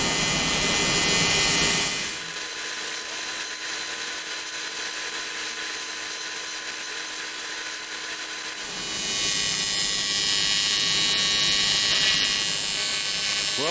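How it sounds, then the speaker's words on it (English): Continuous electric buzzing and hiss from welding or grinding on a plate for a twin M90 supercharger intake on a small-block Chevy, loud and steady, shifting in tone partway through before returning to a brighter, harsher whine. "I'm going to clean this up a bit and then get welding it down to the intake"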